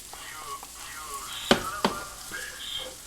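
Hamburger meat dropped back into a hot pan, hissing and sizzling softly, with two sharp clattering knocks in quick succession partway through.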